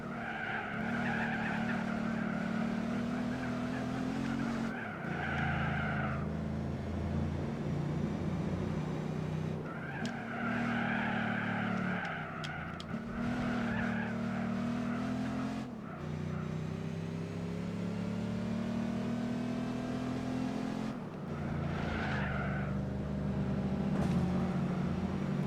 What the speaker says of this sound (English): I can hear a boxer motor right on my tail.